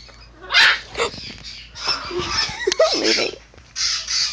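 A parrot imitates a dog, giving a loud, harsh bark-like call followed by a series of rough squawks and yelps at close range, with other birds faintly in the background.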